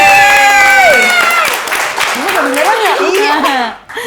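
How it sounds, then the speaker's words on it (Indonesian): Loud audience applause and cheering at a comedy open mic, dense clapping mixed with whoops and laughter, with voices shouting and talking over it before it tapers off. "Boleh minta tepuk tangannya dulu?"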